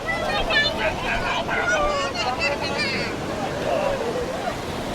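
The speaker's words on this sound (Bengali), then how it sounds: "সমুদ্রের গর্জন শুনতে আমরা বারবার ছুটে আসি" Sea waves at Kuakata beach, a steady close wash of surf and wind under lively chatter and children's voices from a crowded shore.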